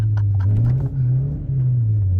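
A Mark IV Jetta with a 2-liter engine and five-speed runs with a close, steady low rumble after a few short clicks at the start, its pitch rising and falling slightly, with no talking.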